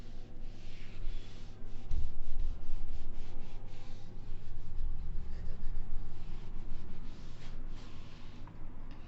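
Chalk or marker rubbing steadily across a classroom board while a differential equations solution is written out, a continuous close scratching and rubbing over a low steady background hum, with no voices.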